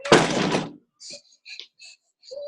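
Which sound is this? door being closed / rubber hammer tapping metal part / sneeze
door being closed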